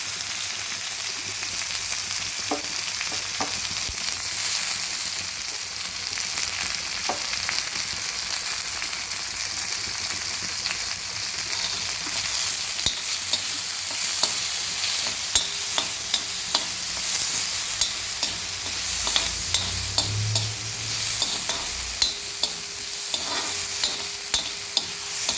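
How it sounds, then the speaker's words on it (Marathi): Food being sautéed and stirred in a pan, giving a steady crackling sizzle throughout with occasional scrapes and clinks of the spoon, close and moderately loud, with no talking. "हे छान प्रकारे परतून घ्यायचं आहे."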